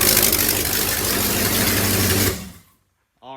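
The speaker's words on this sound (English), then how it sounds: "The motor starts. Runs perfect." A rebuilt, once-wrecked Malibu Wakesetter surf boat motor runs loud and steady up close, then cuts off abruptly, leaving silence before a brief voice speaks.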